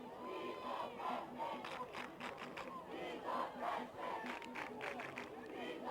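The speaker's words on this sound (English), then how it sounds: "As the crowd chants here" High school football crowd chanting from the stands during a St. Joseph-Ogden vs St. Thomas More game, a loud, rhythmic mass of voices with cheering rising and falling over several seconds, heard at a distance.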